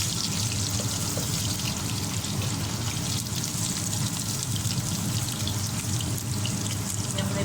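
Chopped onions dropped into a hot pot of oil for aloo gosht salan, setting off a steady loud sizzle and crackle that runs evenly throughout, close up with no talking.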